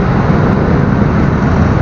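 Dense, steady roar of road traffic from passing vehicles along a busy street, a continuous broadband rumble with no distinct breaks or voices.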